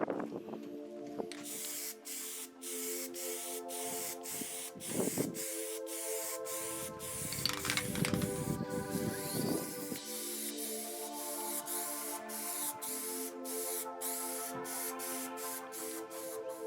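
An aerosol can sprays Plasti Dip rubber coating onto a 36-inch Plano plastic gun case, with close hissing bursts of spray over a steady background hum and repeated sharp clicks.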